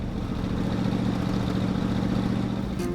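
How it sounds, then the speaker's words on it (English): Old barn-find American car engine running on stale gasoline through its carburetor, held at a steady throttle, a continuous rough, loud mechanical drone close by with a slight uneven pulse and a small change near the end. "I have to keep like a constant throttle to keep it running to get that bad gas out of the carburetor"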